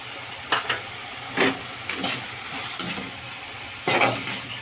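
Ginger garlic paste sizzles steadily in a pan while a spoon stirs it in a few sharp scraping strokes, close and alone with no voices.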